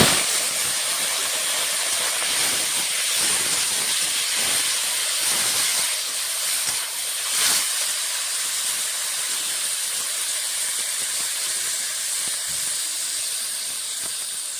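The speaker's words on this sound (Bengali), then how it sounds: "তেল গরম হয়ে গেছে, দিয়ে দেবো শুকনো লঙ্কা, গোটা গোটা পাঁচফোড়ন" Dried red chillies and whole panch phoron dropped into hot oil in a kadai for tomato chutney, giving a continuous bright hissing sizzle that stays loud and even, with no talking.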